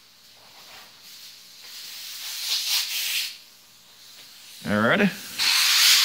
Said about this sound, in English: Let's go ahead and grind on this blade and sand this blade.